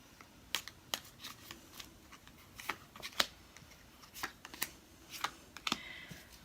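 Tarot cards are shuffled and drawn close by, giving soft, quiet flicks and riffles in irregular bursts with crisp snaps as cards are pulled.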